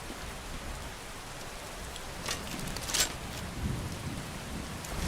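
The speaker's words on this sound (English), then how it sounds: "Some nice rain sound effects." Steady rain falls in the video game Skyrim, a continuous soft patter filling the scene with a few brighter splashes and a faint low rumble, no voices over it.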